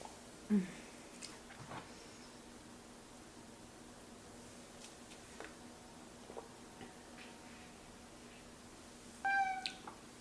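A kitten gives a short, high meow near the end, fairly close, over quiet room background with faint chewing-like ticks and small clicks earlier.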